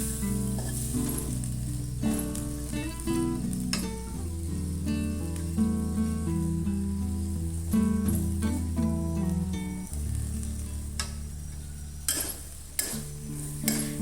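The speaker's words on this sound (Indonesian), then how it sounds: "Dan ini akan kita masak sampai kacangnya lembut ya" Long beans and egg stir-fry in a pan, sizzling steadily throughout with scattered clinks and scrapes of utensils against the cookware.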